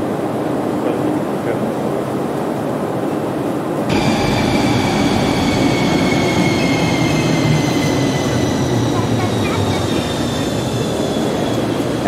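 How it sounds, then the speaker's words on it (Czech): A Finnish metro train rumbles steadily through its run, loud and close, with high whining tones and squealing wheel noise rising in parallel bands after a few seconds, no voices present. "Finské metro."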